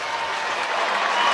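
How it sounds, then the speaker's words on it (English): Warm, steady applause from a football crowd as Collingwood players walk down the race after an AFL match against St Kilda, a dense continuous patter that holds level throughout. "there's the warm round of applause as the Pies walk down the race"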